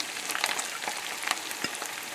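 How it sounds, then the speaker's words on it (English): Onions and garlic sizzle in a pan alongside salmon or steelhead, a dense crackling hiss with scattered pops and a light stirring scrape, close up and alone without voices. "also going to add the onions and the garlic"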